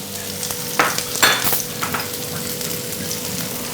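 Ginger, green chilli and onion sizzle and crackle in a hot pan, close and loud, with a few sharper bursts as the pieces are stirred.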